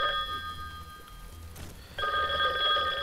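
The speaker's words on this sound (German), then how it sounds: "Telefon!" A telephone rings faintly at first, then louder with a steady electronic tone, in a quiet room with no talking.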